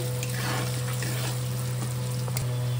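Small red potatoes frying in oil with spices give a steady, close crackling sizzle along with a constant low hum from the stove.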